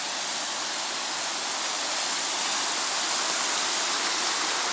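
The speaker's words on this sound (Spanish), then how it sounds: "Este río cruza por el medio de la pista." A river cuts across a mountain track on the way to Nevado Raura in Peru. It gives a continuous, even rushing roar of flowing water, loud and close, with no other sounds.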